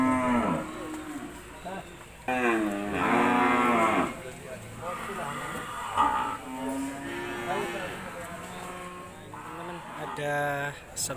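Cattle at a cow market in South Kalimantan moo loudly several times, long drawn-out calls from nearby animals, with people talking faintly in the background.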